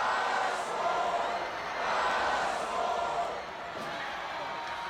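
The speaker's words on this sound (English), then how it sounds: "You can hear them cheering this whole match" Crowd at a wrestling match cheering: a continuous roar of voices swells and eases across five seconds, heard from a distance at moderate level, with commentary talk over it.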